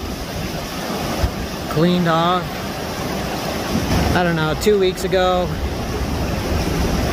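A river running near flood level roars steadily in a broad wash of flowing water, with wind noise against the microphone and someone talking over it.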